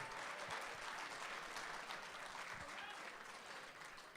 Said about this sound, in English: Give yourselves a huge round of applause for this awesome turnout tonight